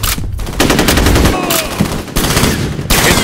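Rapid automatic gunfire from F.E.A.R. multiplayer combat, loud and close, with sustained bursts broken by a couple of brief pauses and a faint voice under the shooting.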